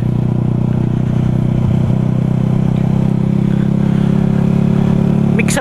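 A remapped motorcycle's engine drones loudly and steadily while riding, a constant close mid-pitched hum with rushing wind, holding its pitch throughout and ending with a brief rattle.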